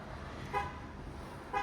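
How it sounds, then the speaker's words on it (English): A car horn toots twice, faint and distant, over a steady outdoor hum of traffic, with no talk. "do you hear that horn honking?"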